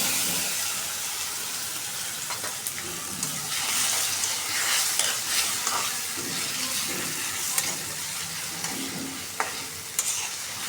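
Spice paste and onion fry in oil in a pan for a chicken curry, giving a steady soft sizzle with intermittent stirring scrapes and clinks, close and fairly quiet.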